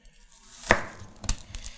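An onion is halved and cut into wedges with a Zhen VG-10 Japanese stainless steel vegetable knife, giving a sharp chop near 0.7 s and a few softer knife taps on the board that follow, close and fairly quiet.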